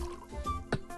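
Liquid pours briefly into a cup, a soft trickle with a small splash near the end, close by and fairly quiet.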